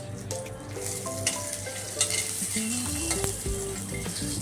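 Cumin, mustard seeds and asafoetida fry in a little hot oil in a kadhai while being stirred, giving a close, continuous sizzle with light scraping and clinks of the spoon against the pan, and no talking.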